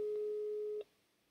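A telephone line gives a steady electronic busy tone that holds for under a second before cutting off sharply, leaving a quiet line hum.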